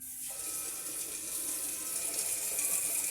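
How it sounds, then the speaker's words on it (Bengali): Tap water runs steadily into a sink while masoor and khesari lentils are rinsed, a continuous close hiss and splash with no voices. "প্রথমে এখানে মসুরি এবং খেসারি দুই রকমের ডাল আমি ধুয়ে নিচ্ছি"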